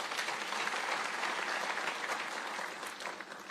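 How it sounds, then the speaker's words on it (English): An audience at a university graduation ceremony in Nairobi claps loudly and continuously, a dense wash of applause that eases slightly toward the end. "Let us clap for ourselves."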